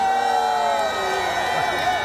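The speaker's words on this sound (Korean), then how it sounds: "박수를 치기 힘드시면은 크게 함성으로 함께해 주시면 감사하겠습니다" Crowd at an outdoor trot concert on Yeongjong Island cheering and shouting together, a sustained roar of voices with whoops rising over it, steady and loud throughout.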